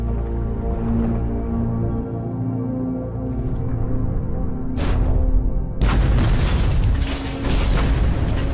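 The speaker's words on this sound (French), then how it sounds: "Les grenades explosent tout autour du sous-marin." Depth charges bursting around a submarine in World War II, a run of deep booming blasts and rumbling shock waves, loud and close, swelling into a heavy roaring eruption near the end.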